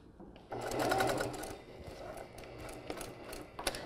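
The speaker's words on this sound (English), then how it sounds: "we're sewing the collar stand to the wrong side of the shirt" Sewing machine stitching a collar stand to a shirt, a close rapid mechanical chatter that runs in a short burst, slows, and ends with a few clicks and taps.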